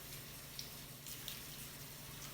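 Tap water running into a bathroom sink during handwashing, a steady soft hiss and splatter at moderate distance with a couple of faint clinks.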